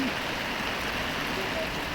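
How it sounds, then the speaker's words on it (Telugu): Heavy rain falling over a town, a steady, dense, even hiss with no pauses, loud and close throughout. "మెదక్ జిల్లా రామాయంపేట మండల కేంద్రంలో నేడు భారీ నుండి అతి భారీ వర్షం కురుస్తుంది"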